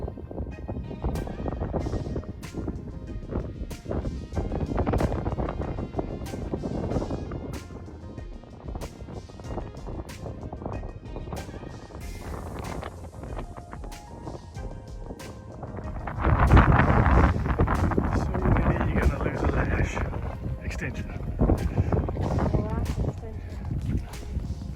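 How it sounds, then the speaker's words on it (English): Strong gusty wind in open Nebraska country roars and buffets the microphone continuously, swelling louder partway through, with dense rumbling noise and no clear voices. "it is extremely windy"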